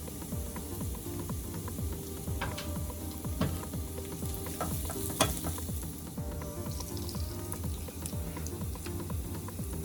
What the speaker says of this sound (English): I'm adding 1/4 of a spoon of cumin and coriander, and have it cook for 1 minute